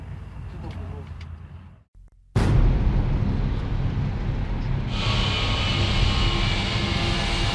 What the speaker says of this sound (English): I'd be sitting on the tarmac, waiting to jump out of an aeroplane